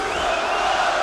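Dense, steady roar of a large wrestling arena crowd at an AEW Dynamite event in Charleston, West Virginia, a continuous wash of cheering voices at even loudness for about a second.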